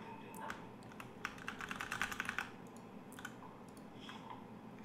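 Computer keyboard keys are mashed in quick irregular bursts of clicking, densest in a loud flurry midway, with scattered taps before and after, close and fairly quiet.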